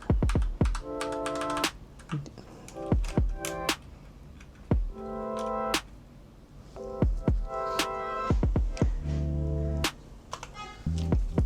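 Rapid typing on a computer keyboard connected through a UGREEN KVM switch at a dual-monitor Mac desk, close clicky keystrokes in bursts with brief pauses, alone with no talking.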